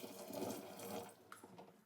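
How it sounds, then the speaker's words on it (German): Boiling hot water is poured into a sink drain, giving a faint, steady splashing gush with a brief burble near the end and no talking. "Und man kann auch ruhig kochend heißes Wasser in den Ausguss gießen."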